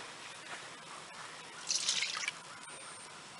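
Water is poured into a homemade glue and borax slime mixture, giving a short, soft splashing trickle of under a second against a quiet room, with no talking.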